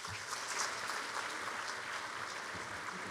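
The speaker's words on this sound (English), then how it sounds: "please give them a huge round of applause" Audience applause at a book launch for the Malayalam translation of Our Living Constitution, a steady, even wash of many hands clapping, moderately distant and unbroken for the full three seconds.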